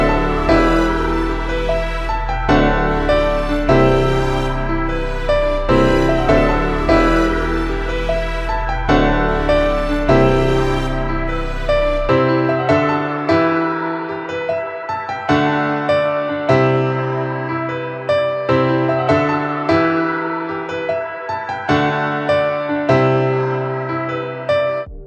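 Piano loop from the Arturia Piano V5 American Classical Clean preset, a bright repeating melodic pattern with a deep bass tone under the first half that drops away, leaving the piano alone.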